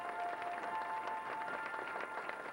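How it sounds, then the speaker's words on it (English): Audience applause fills a 1990 charity roast dinner for a diabetes association, a dense, steady wash of many hands clapping at a fairly even level throughout, with no talk over it. "Give a big round of applause before we bring up the Senate President."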